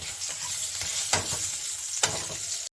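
Four potatoes dropped into hot oil in a frying pan for a rui fish curry, a continuous crackling sizzle with two sharp bursts as pieces hit the oil, ending abruptly.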